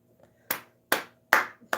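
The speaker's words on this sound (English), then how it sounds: "I gotta put my drink down to clap for that." Four sharp, close hand claps spaced roughly every half second, crisp and isolated against near silence.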